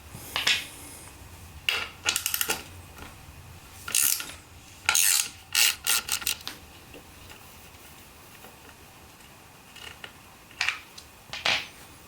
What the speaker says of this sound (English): Now let's remove this bolt.